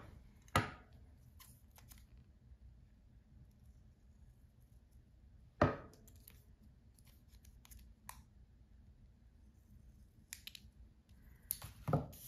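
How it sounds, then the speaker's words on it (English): Scissors cut a paper planner insert for A5 rings, with two sharp snips a few seconds apart and small rustles of paper between them, quiet and close. "I need to actually cut this down a little bit."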